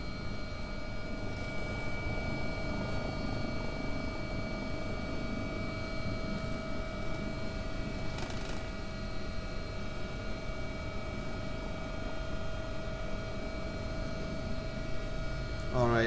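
An AW-139 helicopter in X-Plane 11 drones on at a steady, loud level, with rotor thrum and a constant turbine whine holding tonal hums throughout.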